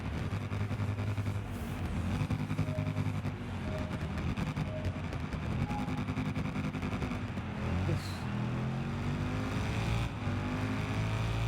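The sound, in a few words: motorcycle engine in video game Ride 6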